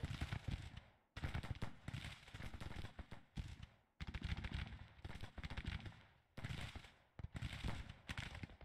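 Volleys of artillery and musket fire rattle across a Civil War battlefield in Grand Tactician: The Civil War, coming in bursts of crackling shots separated by short pauses, fairly faint and distant.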